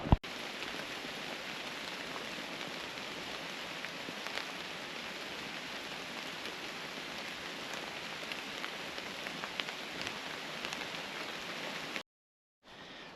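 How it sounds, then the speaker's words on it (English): Steady rain with gusting wind beats on a cheap camouflage tent during a storm, a dense, even patter and hiss holding at close range for about twelve seconds before cutting out abruptly. "So it's windy, it's raining, and it's only a cheap tent."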